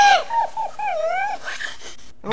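A cartoon puppy in the children's game Adiboo whimpers and whines in rising, wavering tones, close and clear, ending on a short yelp.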